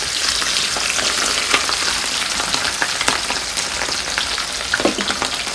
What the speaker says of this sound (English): my oil is hot, so I'm just gonna add 2 at a time because I don't want to overcrowd the pan